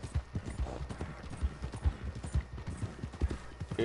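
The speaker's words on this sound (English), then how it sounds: "there's your spirit horse, he'll take you to the next world." A horse's hooves clip-clop in a steady walking rhythm, moderately close and fairly quiet, with no talking over them.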